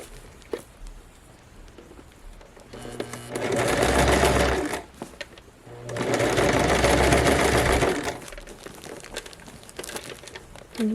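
A sewing machine stitches fabric for a beginner's porch pillow in two sustained loud bursts of steady whirring, each a few seconds long, separated by a short pause and quiet handling of the cloth.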